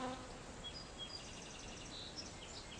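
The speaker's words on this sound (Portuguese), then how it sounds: "As abelhas metálicas têm um pincel para varrer o pólen no abdômen" Solitary bees buzzing, a steady close insect hum with a few faint bird chirps in the background.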